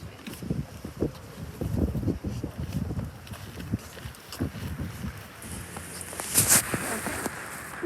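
Wind buffeting outdoors on a family nature walk, a steady rumbling gust noise with scattered footsteps and movement, rising louder near the end.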